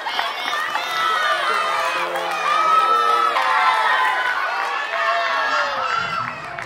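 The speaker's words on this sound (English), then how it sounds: "can we give them a round of applause?" A loud, continuous crowd cheers and shouts for performers leaving a stage at a Tongan cultural event, full of high-pitched excited voices, with some clapping likely mixed in.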